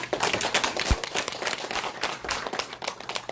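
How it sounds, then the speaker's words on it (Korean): An audience applauding at the end of a business lecture, steady dense clapping from many hands throughout, fairly loud and close, with no speech over it. "다시 한번 열강해 주신 사장님께 큰 박수"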